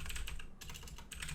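Fast, steady typing on a computer keyboard, close and continuous with a brief pause midway, dense clatter of keystrokes with no voice over it.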